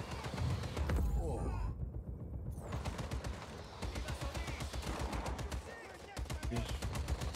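Enemy gunfire in Just Cause 4, rapid automatic bursts rattling continuously at moderate distance over a busy game background, with a voice talking over it.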